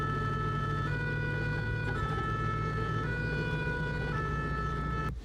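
An ambulance siren wails continuously from close range, its two-tone pitch alternating roughly every second over a low engine drone, loud and steady throughout.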